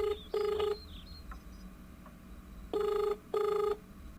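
Telephone ringtone of an outgoing call, two pairs of electronic ring bursts separated by a quiet gap, clear and fairly close with no talking.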